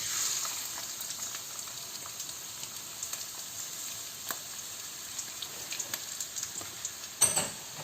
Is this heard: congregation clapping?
no